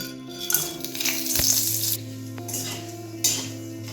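Whole spices (bay leaf, cinnamon, cloves, cardamom and black pepper) drop into hot oil for a fish korma, sizzling in bursts with sharp metallic clinks of a utensil against the pan.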